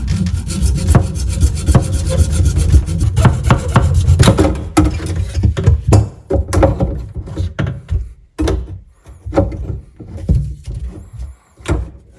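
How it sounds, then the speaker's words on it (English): A hacksaw cuts through a plumbing pipe during demolition work, with rapid, rhythmic rasping strokes close by that grow choppier and more spaced out as the cut finishes. "So I'm just going to go ahead and cut it off with the hacksaw."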